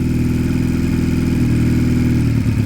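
Piaggio Fly scooter engine idling close by, a steady low putter with a slight wavering fluctuation in its rhythm, loud and alone.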